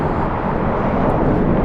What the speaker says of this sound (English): That's the first takeoff.